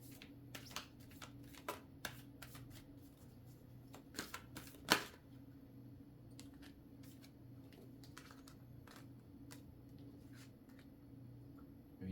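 A fairy oracle deck is shuffled and a card drawn, with soft, irregular papery riffles and flicks, plus one sharper snap partway through, all quiet and close with no speech.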